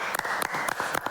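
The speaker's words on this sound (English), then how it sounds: "Let's clap for them." A studio audience claps for Arsenal after a Champions League discussion, a steady patter of hands with a few louder individual claps standing out.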